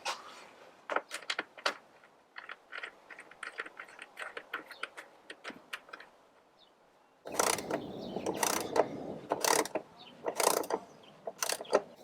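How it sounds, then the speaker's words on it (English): Screw being tightened into a riv nut on a Jeep Cherokee XJ with a ratchet, giving rapid, close clicking bursts. The clicks grow louder and denser in the second half. "screw it in, tighten her down."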